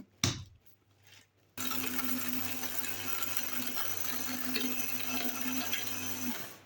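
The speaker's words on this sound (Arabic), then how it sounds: "باخذ معها كمية تانية من الذرة، وبواصل الطحن" An electric grinder grinds corn kernels into flour at home. A few clicks and a rattle come first, then the motor starts and runs with a loud, steady whine and buzz until it stops abruptly near the end.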